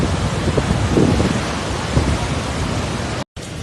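Heavy rain and thunder pour down during deadly flash flooding in Valencia, Spain, a dense, steady roar of downpour with low rumbling swells, cutting out briefly near the end.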